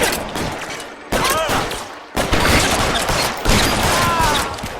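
Three sharp, loud gunshots in the 1940s Los Angeles crime game L.A. Noire, each cracking abruptly about a second apart and ringing out with a decaying tail, close and otherwise alone.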